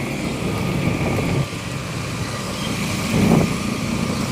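Steady roar of busy city street traffic crowded with motorcycles in Indonesia, a continuous broadband drone with a couple of louder vehicles passing close by.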